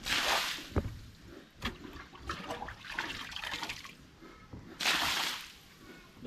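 Water sloshes and gushes in uneven surges, with splashy bursts at the start and near the end, fairly close and moderately loud.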